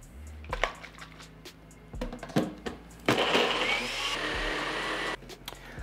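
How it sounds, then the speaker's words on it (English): A high-speed blender whirs through dates with salt and pepper, starting with a few clunks and short bursts before settling into a loud, steady roar that runs for several seconds and then drops back. "I'm gonna throw the lid on and we'll blend it up."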